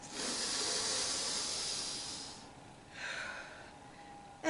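A voice imitates a long breathy sniff, followed by a shorter second inhale after a pause, fairly quiet and close.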